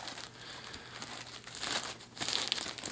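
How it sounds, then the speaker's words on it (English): A crinkly plastic adult diaper being handled up close, giving faint continuous crackling and rustling that grows busier and louder toward the end. "Very crinkly plastic"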